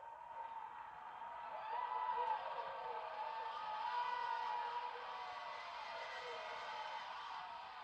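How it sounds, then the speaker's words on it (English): Distant crowd cheering at Niagara Falls during a total solar eclipse, a steady broad roar of many voices swelling slightly midway, with no clear individual words. "listen to this crowd"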